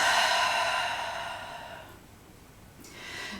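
A long, slow exhaled breath during a standing tai chi flow, soft and close, fading out before a faint intake at the end.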